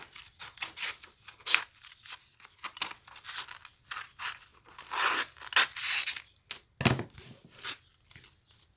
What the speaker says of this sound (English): now you want to use its scissors and cut it like that